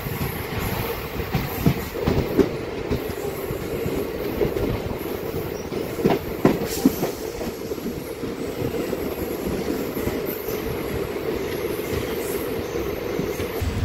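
A DEMU local train pulling out of Gundlapochampally railway station, rolling with a steady near rumble, scattered wheel clicks and brief metallic squeals building over about fourteen seconds, with no talking.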